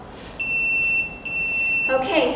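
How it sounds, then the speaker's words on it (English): A workout interval timer in a cardio fitness class gives a long, steady, high electronic beep that breaks briefly and then continues. A louder rustle follows. "When it beeps, that's our 10 seconds."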